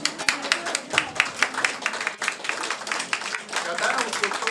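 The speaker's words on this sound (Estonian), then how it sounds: "Nii et aplaus." An audience at an art exhibition opening claps in a brief burst of applause, a close, dense patter of handclaps lasting a few seconds.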